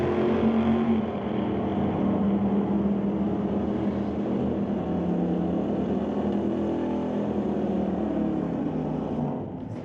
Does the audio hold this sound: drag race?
yes